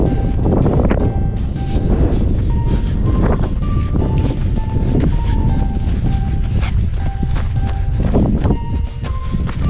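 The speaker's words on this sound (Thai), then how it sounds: "คือบริเวณอากาศมันมีลม" Steady wind rushes across the microphone during a six-kilometre trail run at Nong Kang Pla near Phimai, a loud continuous roar that fills the whole stretch, with faint tonal beeps and vehicle-like hums scattered underneath.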